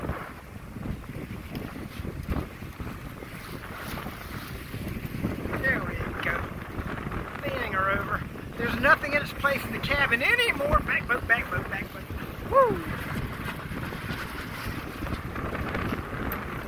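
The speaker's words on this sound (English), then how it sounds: "just winds are just howling" Strong wind roars and buffets the microphone continuously, with water sloshing against a boat and a voice speaking occasionally underneath.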